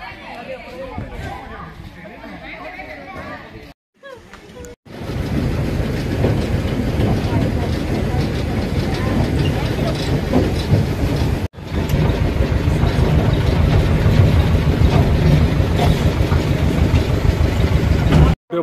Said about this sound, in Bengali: গার্ডেন এক্সপ্রেস ট্রেন বলছে, বাট নট রেল,